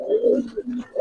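Giribaz pigeons cooing up close, a short series of soft, low throaty coos in quick succession.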